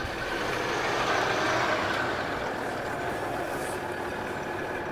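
A Land Rover Discovery 3 (LR3) engine working steadily at moderate revs as the vehicle climbs a dirt slope offroad, a continuous droning rumble with faint rattles, close and fairly even in loudness throughout.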